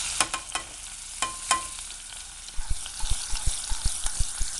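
Onions sautéing in olive oil over high heat give a steady close sizzle, with a few sharp knocks early on and a regular run of low stirring thumps in the second half.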